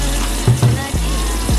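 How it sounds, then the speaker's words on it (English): White vinegar splashes steadily over raw chicken in a bowl, a close, continuous pouring and trickling wash of liquid with a few soft thuds. "I am pouring my vinegar all over my chicken."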